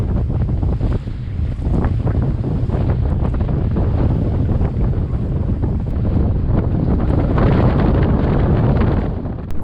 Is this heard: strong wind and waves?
yes